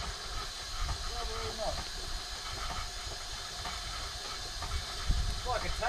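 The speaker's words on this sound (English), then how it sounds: "Christian's got a little water pump running there and two stationary engines running off that other boiler" Robey stationary steam engines running off a boiler outdoors in rain, a continuous steady hiss with faint mechanical chugging beneath, while people talk nearby.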